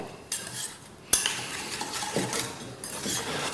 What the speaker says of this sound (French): Voilà, on va mélanger. Toujours avec le fouet.